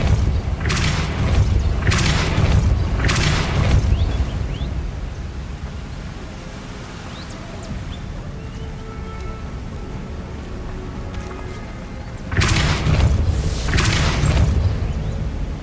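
Magic spell bursts in Hogwarts Legacy: a cluster of three loud whooshing blasts at the start, a quieter stretch of rumbling game ambience, then two more forceful bursts near the end.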